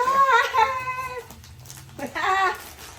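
A cat meows in two drawn-out, wavering calls separated by a short pause, loud and close.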